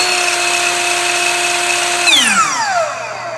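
Hitachi C10FS Gen 2 miter saw, belt-driven with soft start, hums loud and even up close, then is switched off and its tone sweeps downward as the motor spins to a stop.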